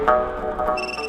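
A phone ringtone chimes in a Hindi comedy film scene, a short bright melodic burst of stacked tones that shifts to a higher pitch partway through, with no talking.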